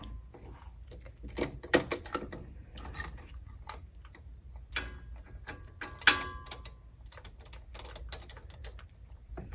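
Ratchet clicking in quick irregular bursts while a new spark plug with anti-seize on its thread is threaded into a 2007 Porsche 997 Turbo engine, close and moderately loud, with no talking.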